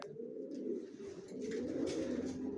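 A pair of young racer pigeons coo softly and continuously at close range, a low throaty murmur with no talk over it.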